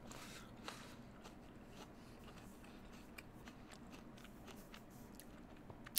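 Crunchy bites into a Jazz apple, faint and close, with a few soft crisp snaps and chewing spread over a quiet background hiss, no talking.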